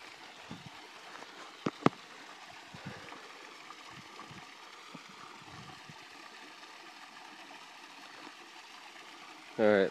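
A small stream flows through rural New Mexico land in a faint, continuous trickling murmur, broken by a couple of sharp handling clicks and a short burst of noise at the end.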